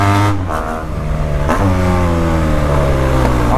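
A BMW 1200 motorcycle engine revs hard and close, with a sharp throttle blip near the start and another midway, then holds a steady, loud drone with no speech.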